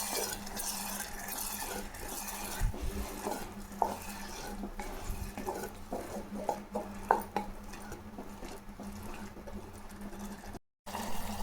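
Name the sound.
sautéing and stirring ground tomato paste in a pan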